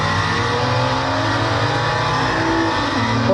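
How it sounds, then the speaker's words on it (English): A Mercedes E63 S engine in a racing video game set on the Nürburgring revs loud and steady, a continuous droning roar with shifting pitch, no talk over it. "Listen to that E63S, boy."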